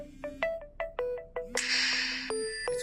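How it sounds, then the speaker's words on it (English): A cell phone rings from an incoming automated call, repeating a short melodic ringtone with quick stepped tones, then a brighter sustained burst, loud and close with no talking. "it's calling my cell phone"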